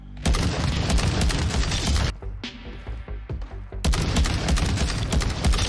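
A DMR rifle in Warzone 2 Resurgence fires rapid, dense volleys of loud gunshots, pausing for a couple of seconds with scattered quieter shots before the heavy fire resumes.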